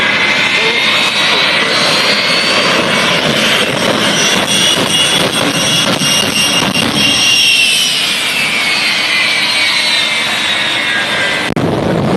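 A jet truck's engine gives a loud, sustained jet roar at an air show, staying intense throughout, with a sharp shift near the end.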